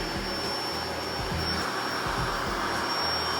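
The built-in electric air pump of an AirExpect air mattress runs in a steady, loud, whooshing drone while inflating the mattress, with no break throughout.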